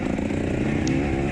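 A dirt motorcycle's engine revs during an off-road race, a loud, close, raspy buzz that climbs slightly in pitch and holds steady through the brief moment, with no talk over it.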